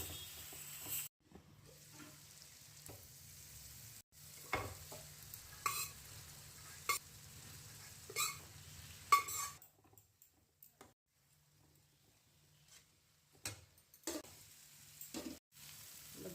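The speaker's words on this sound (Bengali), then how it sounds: "সামান্য জল দিয়ে মশলাটা ভালো করে কষিয়ে নেব।" Spice paste of ground coriander, dried and red chilli powder, turmeric and salt, loosened with a little water, sizzles faintly in a pan under intermittent stirring scrapes and taps, with a brief quiet stretch midway.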